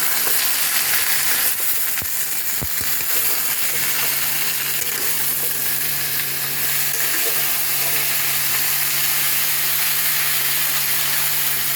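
Drumstick, eggplant and other vegetables sizzle and crackle loudly in a hot pan while being stirred, a constant bright frying hiss with a few soft knocks early on.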